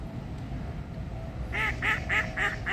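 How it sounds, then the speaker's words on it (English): A greylag goose calls on the lake at St James's Park in London, a run of about five short, nasal honks in steady rhythm after a stretch of quiet outdoor ambience, fairly close and moderately loud. "I thought it was a goose."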